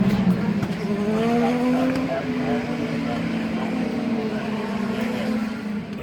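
IndyCar race cars lapping in qualifying at the Mid-Ohio Sports Car Course, a steady engine drone rising and falling as the cars pass at some distance, with talk over it.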